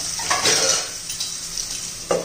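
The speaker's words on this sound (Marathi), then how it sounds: "त्याच्यावर आपण झाकण ठेवूया" A lid is set onto a pan of sizzling tomatoes and onions for a sprouted moth bean curry, with light metallic clinks up close over a soft frying hiss, and another clink near the end.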